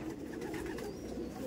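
A restless Madras pigeon held in the hand gives soft cooing and fluttering sounds, close and steady, over a low background hum.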